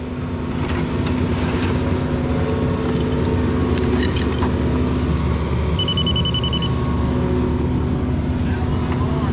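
A small Yanmar mini excavator digging a utility trench at a homestead, its diesel engine droning steadily and loudly throughout with faint clanks of the bucket and a brief high beep.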